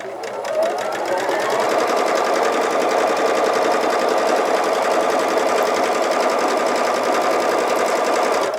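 A sewing machine runs steadily and loudly for the whole stretch, stitching separate quilt block units for an animal crackers quilt, with a brief start before the motor settles into its continuous rhythmic whir.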